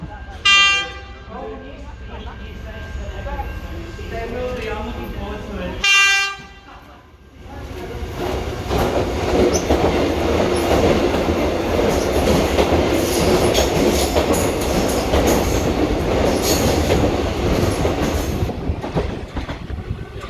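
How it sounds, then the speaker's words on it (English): A train arrives at Surrey Hills station on the Surrey Hills and Mont Albert line, a loud, close, steady rumble of wheels and rail that swells and fills the scene, with excited voices talking over the start. "There's actually another train for some reason."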